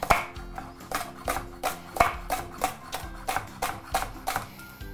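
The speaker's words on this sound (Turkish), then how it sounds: "Maydanozları da doğruyorum güzelce." A knife chops fresh parsley on a cutting board for artichoke dolma, sounding as a steady series of about a dozen crisp, close knocks in an even rhythm.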